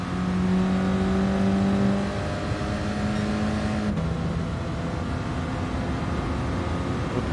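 A Clio Cup race car in a sim racing game accelerates back onto the throttle after trail braking, a loud steady engine drone with sustained tonal whine that shifts pitch midway, heard alone without talk.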